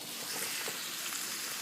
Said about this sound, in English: The meat should be pretty much browning up, just like it is now